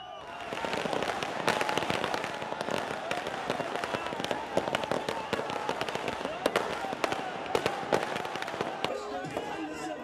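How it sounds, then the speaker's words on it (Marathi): Crackling bursts of firecrackers and fireworks pop continuously over a noisy, cheering crowd of political party workers outside an Enforcement Directorate office, sharp reports scattered throughout. "फटाक्यांची आतषबाजी देखील दुसरीकडे आपल्याला बघायला मिळते"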